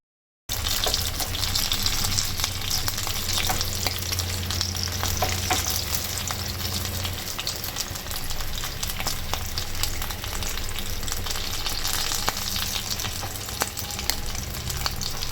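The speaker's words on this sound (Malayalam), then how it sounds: "ഒരു 5 മിനിറ്റിന് ശേഷം തിരിച്ചിട്ട് കൊടുത്തിട്ട് വീണ്ടും ഒന്ന് ഫ്രൈ ചെയ്തെടുക്കാം." Snack pieces shallow frying in oil make a loud, dense, crackling sizzle that runs steadily for the whole stretch, close up and without any speech.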